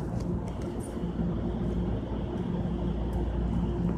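Train at Raritan station, a low, steady rumble of rolling railcars heard up close and continuous, with a faint high tone above.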